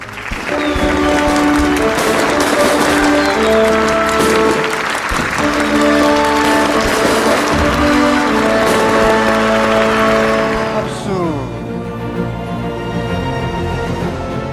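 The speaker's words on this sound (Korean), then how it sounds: "2021 천지인 참부모 효정 천주축복축제를 여러분들의 뜨거운 박수로 시작하도록 하겠습니다" A large crowd claps to open a blessing festival, the applause sustained under loud music with strong tonal chords; the clapping fades near the end as the music carries on more quietly.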